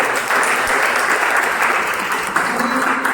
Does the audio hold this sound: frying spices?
no